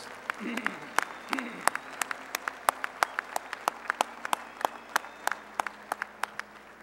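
At an agricultural college commencement, sparse audience applause for the Plant and Soil Sciences graduates comes as a string of sharp, distinct claps at a fairly even pace, with a brief voice murmuring at the start.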